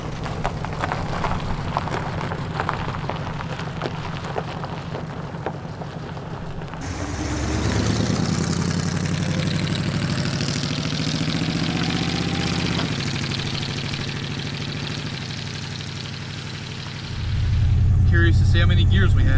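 An old Ford flathead V8 idles with a steady low rumble, then picks up and runs louder and smoother as it starts to drive, a voice speaking briefly over the early idle.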